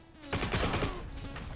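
Gunfire in the World War II video game Heroes and Generals: a quick cluster of sharp shots in a short burst, then a couple more scattered shots, with no voices over them.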